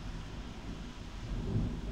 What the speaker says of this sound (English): It's like thunderstorm, rain.